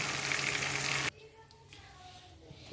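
Tandoori chicken pieces fry in a pan, a loud broadband sizzle that cuts off abruptly after about a second, leaving quiet kitchen background with faint tones.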